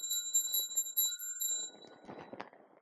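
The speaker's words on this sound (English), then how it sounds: "I'm going to go ahead and ring the bell" A small bell is rung before a tarot reading, a rapid bright ringing of several quick strikes lasting about a second and a half, then lighter handling sounds as the ringing fades.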